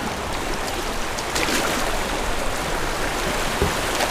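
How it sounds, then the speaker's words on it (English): Whitewater rapids heard from a kayak: a loud, continuous rushing hiss of churning water up close, with small splashes and knocks scattered through it. "I hope you all enjoyed this whitewater rapids."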